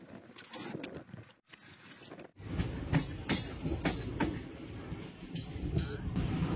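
Train wheels running over rail track joints on an Indian railway journey, a series of loud rhythmic clacks and metallic clinks over a continuous rolling rumble inside the carriage, after a brief quieter moment.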